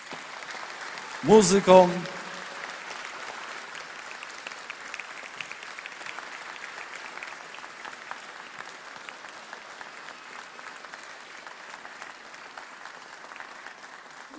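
An audience applauds the performers at a Christmas carol concert held within a church community, a short loud burst near the start settling into steady, sustained clapping while a voice speaks briefly.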